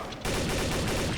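Gunfire in Counter Strike Source, a loud rapid burst of shots starting abruptly and continuing as a dense rattling volley.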